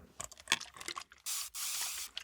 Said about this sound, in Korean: 근데 그 스프레이 되게 좋네요, 소리가.